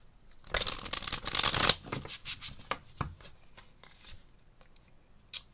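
Tarot cards shuffled by hand in a brief burst of close riffling and flicking, followed by a few lighter card taps and slides, with no talk.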